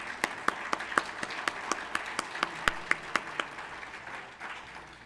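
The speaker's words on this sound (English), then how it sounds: "So if we could have a round of applause for those folks." Audience applause for the staff and volunteers who organized a 2019 event in Sault Ste. Marie: sharp, fairly regular claps stand out in a steady rhythm over a soft room hum, thinning and fading toward the end.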